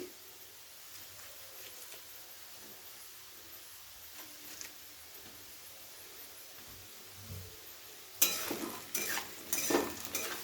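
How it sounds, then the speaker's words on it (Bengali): Potatoes and carrots frying in a pan, stirred during a Bengali paneer and vegetable dish; a quiet sizzle runs throughout, then louder scraping and stirring clatter bursts in near the end. "আলু আর গাজর কিন্তু বেশ অনেকটাই ভাজা ভাজা হয়ে এসেছে।"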